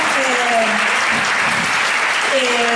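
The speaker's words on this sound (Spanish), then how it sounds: "Bueno, podemos aplaudir ya." Audience applause fills a Spanish-language women-in-economics conference hall, steady and dense throughout, with a few faint voices and brief tonal sounds rising over the clapping.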